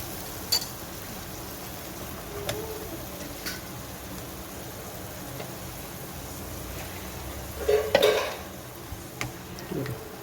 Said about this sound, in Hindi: ये देखिए अच्छी तरह से मिक्स करती हूँ।